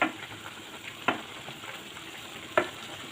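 Beans and carrot with salt being stirred in a pan, two soft scraping strokes about a second and a half apart over a faint steady sizzle, no voices.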